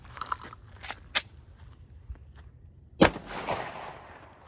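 A single sharp, loud gunshot strikes a homemade DIY body armor plate, with a few faint knocks before it and a brief rattling decay after the impact.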